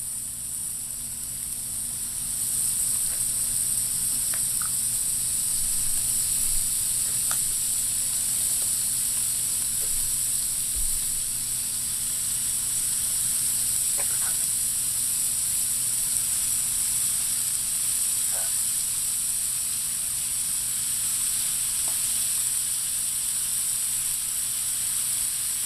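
Ground beef hamburger sizzles steadily in a skillet while being broken up for chili, a constant hiss with faint crackles and pops throughout, fairly close and with no talking over it.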